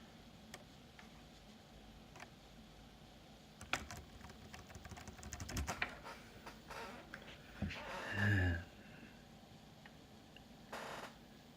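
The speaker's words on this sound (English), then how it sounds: "the smash of the keyboard actually had nothing to do with anything?" Scattered keystrokes tapped on a Sylvania netbook keyboard, a quiet run of light clicks that bunches into a quicker burst midway before trailing off into faint room hiss.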